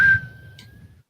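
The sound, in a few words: whistle imitating red car trolley whistle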